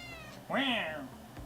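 A house cat gives a single drawn-out meow, close and clear, with a person talking around it indoors.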